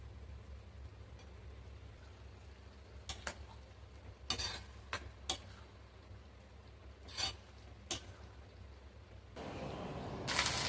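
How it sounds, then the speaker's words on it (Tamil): Vadagam frying in a pan for an office lunch box, with a few sharp scraping and clinking utensil strokes over a low hum, then a steady broad sizzle rising at the end, and no speech. "லஞ்சுக்கு வடகமும் ஃப்ரை பண்ணியாச்சு."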